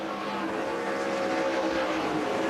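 K&N Pro Series stock cars racing at Newton, Iowa, a continuous loud engine roar from cars circling the track, steady and sustained with no voices.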